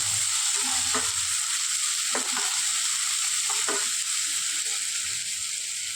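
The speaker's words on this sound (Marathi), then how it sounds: "तेल तापलंय. त्यात उभा चिरलेला कांदा घालते मी." Sliced onion tipped into hot oil in a pan for a South Indian style crab masala, giving a steady loud sizzle throughout with a few brief stirring scrapes.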